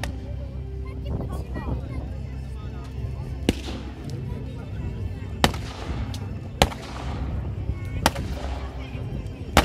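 A captured Russian ZIS cannon fires during a World War II battle reenactment of a May 1945 battle, with several sharp, loud booms spaced seconds apart over a rumbling background and a narrator talking.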